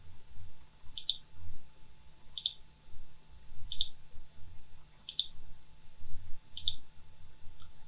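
Five evenly spaced, sharp computer mouse clicks about every one and a half seconds, each a quick double tick, over a low background hum with no talking.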